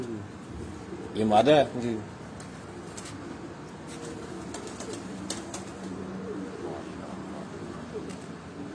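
Pet pigeons on a rooftop in Rawat give low, rolling coos, with a louder burst early on, while someone talks over them nearby.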